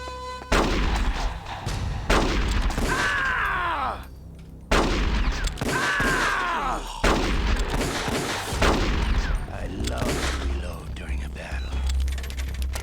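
Gunfire with ricocheting bullets in the stealth video game Metal Gear Solid: The Twin Snakes, sharp repeated shots and whining ricochets in bursts over a constant rumble of game noise, with a short quiet gap near the middle.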